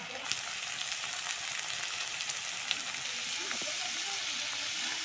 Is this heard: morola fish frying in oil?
yes